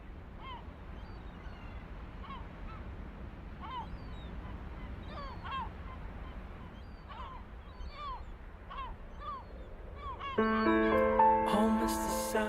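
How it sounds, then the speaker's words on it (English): Repeated honking bird calls early in the morning in the Faroe Islands, scattered across a steady outdoor background, moderately distant, before a bright tonal melody enters near the end. "Home is the sound of birds"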